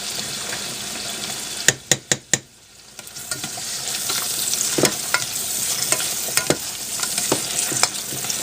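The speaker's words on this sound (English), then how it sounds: "I'm sauteing these things" Vegetables sautéing in a pan for an Alfredo-style farfalle pasta sauce, giving a steady close sizzle with a burst of sharp utensil clacks early on and occasional scraping stirs later.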